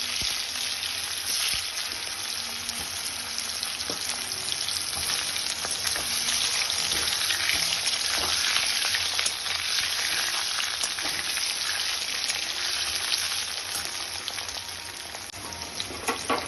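Potatoes fry steadily in hot oil, a constant dense sizzle that hardly varies, with occasional faint clinks and no talking.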